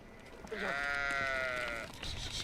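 A goat tended by a shepherd in Egypt's Valley of the Kings gives a single long, wavering bleat, loud and close against quiet outdoor background noise.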